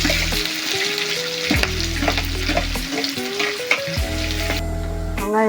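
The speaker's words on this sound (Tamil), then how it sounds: "எண்ணெய் ஊற்றி பட்டை லவங்கம் ஏலக்காய் கிராம் எல்லாம் போட்டு வெங்காயம் பச்சை மிளகாய் போட்டு வதக்கவும்" Onions, green chillies and whole spices sauté in oil with a loud, steady sizzle beneath stepped, looping background music.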